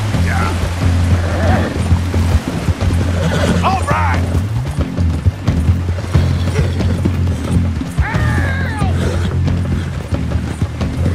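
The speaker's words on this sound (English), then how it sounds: "Come on, horse!" A horse gallops through rushing river rapids in the Red Dead Redemption 2 video game, its steady hoofbeats and mechanical clatter running under loud shouting voices and splashing water.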